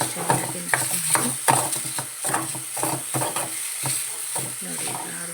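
Raw banana frying in a pan is stirred in rhythmic, close scraping strokes over a constant sizzle.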